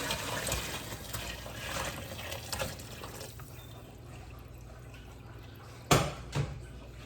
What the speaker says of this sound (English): now I'm going to pour my hot water that was boiled